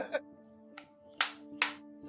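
A film clapperboard snapping shut on a video shoot, a few sharp, separate claps spaced out over a steady low hum, with quiet gaps between them.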